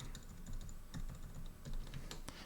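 Typing on a mechanical keyboard fitted with Kailh Deep Sea switches, linear and tactile, with keycaps: a steady run of close, fairly quiet keystrokes and a few sharper clacks, with no talking.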